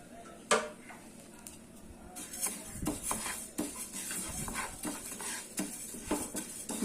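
Half a cup of flax seeds roasting over a medium flame in a pan, a faint dry crackle under repeated scraping and stirring with a utensil, plus light metallic clinks.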